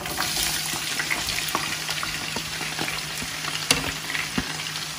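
Sliced onions sizzle steadily in a hot pan of oil while being cooked down for chicken kebab biryani, a continuous close crackle with occasional sharper pops and stirring clicks, no voices.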